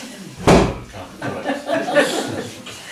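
A door slams once with a sharp, heavy bang indoors, followed by faint murmuring voices and low room noise.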